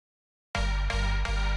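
Sustained synth chords pass through Ableton Live's older Auto Pan effect, ringing steadily with two brief rhythmic dips in level after a short silence, sounding noticeably quieter overall.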